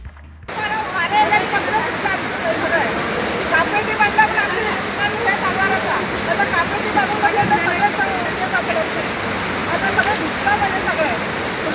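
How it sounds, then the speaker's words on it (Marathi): Heavy rain pours steadily onto a market complex roof, with water leaking through into the traders' stalls; a dense, continuous patter fills the space with faint voices murmuring beneath. "पावसाचे उदक गळपाक लागिल्ल्यान आतां आमी धंदो कसो करचो"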